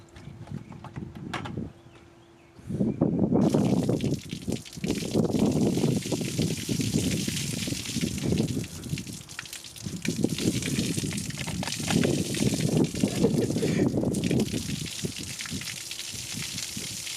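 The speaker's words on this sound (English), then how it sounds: "you just fucking dumped me with a whole thing of water" Water from a whole container pours and splashes over a person in several long heavy gushing bursts with brief pauses between them, loud and close, without talk.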